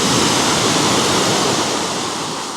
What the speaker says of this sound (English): So the tide's coming in.